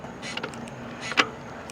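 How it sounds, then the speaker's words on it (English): A Lectric One e-bike downshifting under hard pedaling on a hill gives a few short, faint mechanical clicks and a louder crunchy shift clunk near the end, over a low steady hum. "I'm gonna push a little bit hard and try to downshift now."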